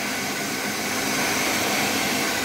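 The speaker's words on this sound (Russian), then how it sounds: "Смотрите, и вот так сушу феном." Hair dryer blowing steadily on a cat being dried after washing, a constant close broadband whoosh with no pauses.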